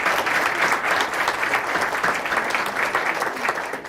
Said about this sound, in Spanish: un aplauso para Carlos.